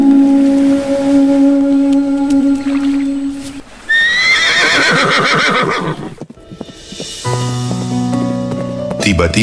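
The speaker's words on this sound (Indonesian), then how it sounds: "Tiba-tiba suara kereta kuda terdengar di luar istana" A horse-drawn carriage arrives outside a palace: a horse whinnies loudly with rising cries mid-clip, carriage noise and hoof sounds around it, with a low horn-like tone at the start and end.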